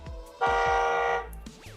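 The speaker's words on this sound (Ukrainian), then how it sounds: "На кермі кнопка сигнал" A single short electronic horn beep from the steering-wheel button of a children's BMW ride-on electric car, bright and buzzy, close up for under a second amid faint background clicks.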